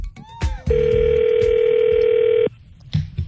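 A telephone handset placing a prank call: a few quick tones and clicks, then a loud, steady dial or ringback tone held for about two seconds before stopping, followed by faint line noise.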